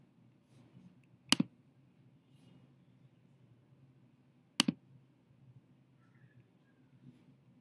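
Two crisp computer mouse clicks, a few seconds apart, made while working in the Bahmni hospital software, each a sharp double tick over a faint low background hum, with no talking.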